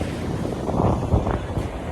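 Strong wind buffets the microphone with a steady low roar and gusty rumbling, swelling briefly in the middle, with no voices.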